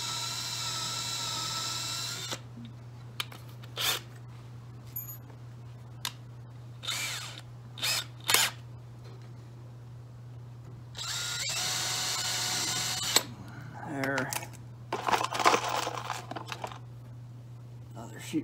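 A power drill drives a sheetrock screw into the bottom sifting screen of a Hero grain cleaner in short, separate whirring bursts with pauses between them, over a steady low hum, with someone talking at times.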